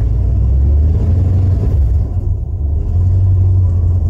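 A 1991 Ford F-150 engine idles roughly, its steady low rumble surging and sagging in uneven waves as the revs hunt up and down, close and loud with no talk over it.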